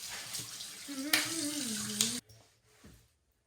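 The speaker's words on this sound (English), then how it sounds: "So I'm going to rinse this mess off, lather it up, get it off my face." A tap runs water into a sink while a face is rinsed and splashed, a steady close hiss with a brief murmur over it that cuts off abruptly, leaving a few faint drips and handling sounds.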